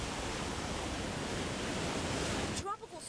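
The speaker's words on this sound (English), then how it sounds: "A lot of waves and a lot of rain." Steady broadband roar of heavy surf pounded by Tropical Storm Imelda near West Palm Beach, Florida, continuous and loud, cutting off abruptly near the end.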